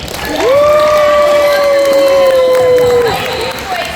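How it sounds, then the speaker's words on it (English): A convention panel audience at San Diego Comic-Con cheers and applauds loudly, with a sustained whoop or tone riding over the crowd noise for a few seconds. "Applause for Deneen."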